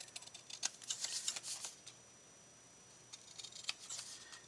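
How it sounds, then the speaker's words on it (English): Scissors trim the ends of a strip of paper in two quick runs of crisp snips, close and fairly light, separated by a short pause. "So let's trim the ends here."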